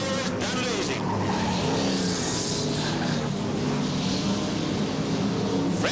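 Hot rod race cars roar around an oval track at the end of a feature race, a dense continuous engine din with tire squeal and cars sweeping past, loud throughout under an announcer's excited commentary.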